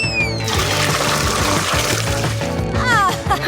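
Water poured during a Hindi-language food layers challenge, a continuous loud splashing trickle set under a bright musical background with gliding tones at the start and near the end.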